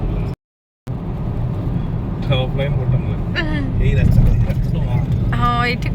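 A car driving along a road on a trip from Bhubaneswar back to Puri, with a steady low engine and road rumble throughout. People talk over it.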